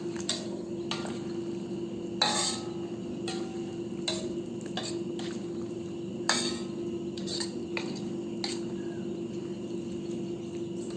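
Ginataang sitaw with malunggay leaves is stirred in a pot with a spoon, giving repeated sharp metallic clinks and scrapes against the steady simmering hiss of the coconut-milk stew.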